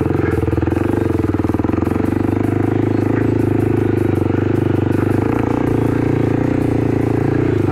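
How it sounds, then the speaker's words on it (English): A Kawasaki KLX300 dirt bike engine runs steadily and loud up close, a continuous throbbing idle with a rough mechanical clatter throughout, no voices over it. "Good news, my bike starts in gear now."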